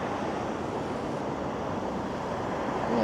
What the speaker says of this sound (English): It was a windy walk for the most part